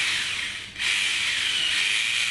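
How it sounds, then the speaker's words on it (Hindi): Power drill boring into a ceiling to mount a cassette air conditioner frame, a continuous bright grinding whine that dips briefly once, then carries on steadily. "तो ये ड्रिल हो रहा है।"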